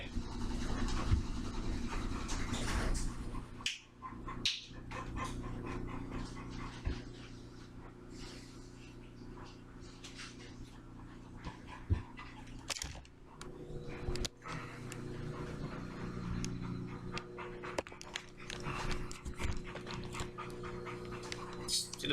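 Bevo, a leashed puppy, pants steadily and rapidly up close through the whole stretch, with a few snorts and shuffling scratches and a faint voice in the background.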